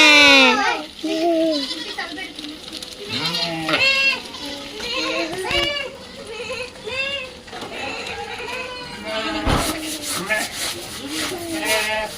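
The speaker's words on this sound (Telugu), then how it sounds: "ఈవినింగ్ టైంలో గొర్రెలు అయితే వెళ్తున్నాయి" Many sheep bleat repeatedly in the evening, overlapping calls near and far, with a few voices and shuffling movement mixed in.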